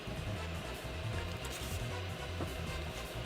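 A 3D printer runs steadily in the background, its stepper motors producing a faint, continuous mechanical hum with a repeating low whirring pattern, alone without talk.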